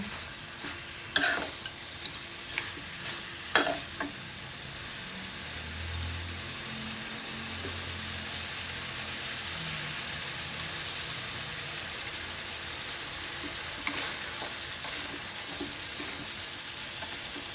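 Steady sizzling and frying of chicken curry with cumin leaves in a pan, with a few sharp scrapes and clinks of stirring near the start and again later. No one speaks.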